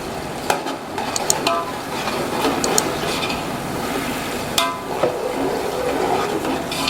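Half a kilo of tomatoes goes into frying masala in a pot for Muharram langar pulao, giving a steady close sizzle with stirring scrapes and a few sharp utensil clinks.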